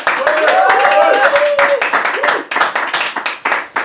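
A studio audience claps loudly and steadily to vote in a Christmas special game show, with excited voices and cheers mixed into the applause throughout.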